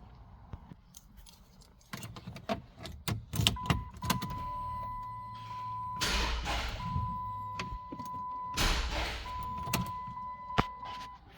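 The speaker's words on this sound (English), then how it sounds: "Let's go ahead and crank it up." A 2007 Chrysler 300C is cranked in several bursts of a few seconds each, its starter whirring with a steady tone, mixed with clicks and key or door clunks in between.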